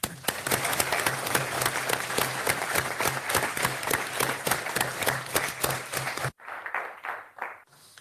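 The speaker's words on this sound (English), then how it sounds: "So please give a warm applause to Vice President Skinas for his speech" An audience at a European Cancer Community Foundation launch event applauds steadily for several seconds, a dense wash of many clapping hands that drops off abruptly into a few scattered claps.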